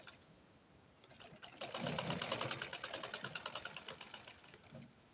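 A sewing machine runs along a blouse border in a rapid, rhythmic stitching chatter lasting several seconds, fairly close and at moderate volume, with no voices.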